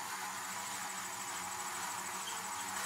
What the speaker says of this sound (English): It kind of sounds like a bunch of- Oh my god! Bees!